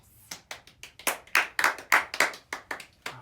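A small group claps for a guest on a podcast set, about a dozen sharp, close hand claps in a quick, uneven rhythm with no talking.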